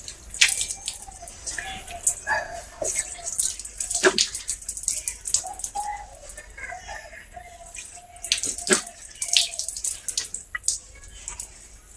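Tap water runs and splashes in uneven bursts and drips while the face is washed three times for wudu, close and moderately loud, with no talking.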